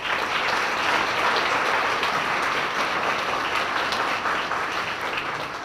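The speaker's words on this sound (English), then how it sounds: "join me in one large round of applause for all these elected officials" A large crowd at a chamber of commerce dinner claps for elected officials in a long, dense, steady round of applause that fades slightly toward the end.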